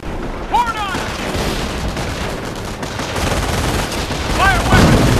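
Infantry gunfire in the Company of Heroes battle at Vierville: a steady wash of rifle and machine-gun fire with distant booms and whizzing rounds, dense and continuous throughout.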